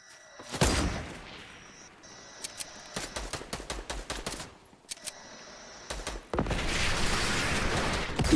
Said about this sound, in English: Are you shooting with an RPG, Finn?